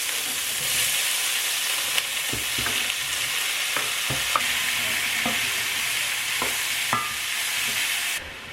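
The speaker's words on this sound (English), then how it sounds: "I'll put oil on there and then just start frying up all of these veggies" Vegetables sizzle steadily in hot oil in a pan, with occasional clinks and scrapes of stirring close by; no voices.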